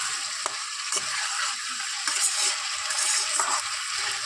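Ground cumin and coriander spices sizzle steadily as they are stirred and fried in a pan for a fish curry with taro, a continuous close crackle with a few scraping strokes and no talking.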